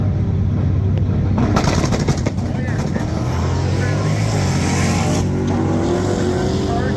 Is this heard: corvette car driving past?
yes